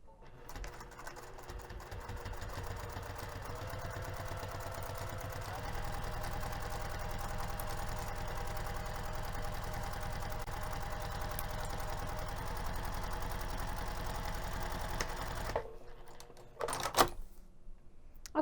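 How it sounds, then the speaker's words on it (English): A sewing machine stitches a quarter-inch seam on a tote bag: a steady, fast mechanical whir with rapid needle chatter running continuously for about fifteen seconds, then stopping with a few close clunks and clicks, fairly quiet and alone. "I'm going to take this over to the sewing machine and sew using a 1/4 of an inch seam allowance"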